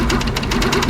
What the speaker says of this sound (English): that's why you can hear the machine motor speed up and the needle go faster